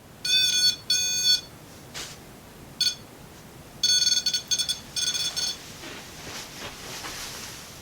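REM pod ghost-hunting device set off during an overnight investigation at a haunted inn, sounding repeated shrill electronic alarm tones in short bursts and rapid pulsed trills, close and loud over faint room noise.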